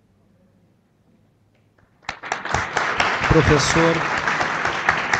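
Audience applause for professors called up one by one to stand and receive certificates at a distance-education forum, a loud sustained burst of clapping breaking out after a quiet stretch, with a voice announcing names over it.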